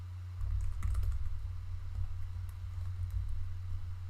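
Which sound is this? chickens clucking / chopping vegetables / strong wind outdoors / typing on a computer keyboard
typing on a computer keyboard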